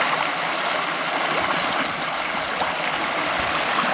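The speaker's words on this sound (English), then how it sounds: "Drink from a river." Steady broadband rush of a flowing river, continuous and fairly close, with no voices over it.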